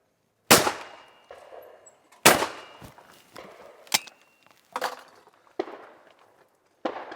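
Nine-pound shotgun with 32-inch barrels fired at clay targets, several sharp, loud blasts with short echoing tails spaced a second or more apart, plus smaller pops between them.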